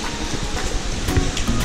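Steady rain falls across a park in Singapore, a dense continuous hiss with scattered drops landing nearby, no voices heard.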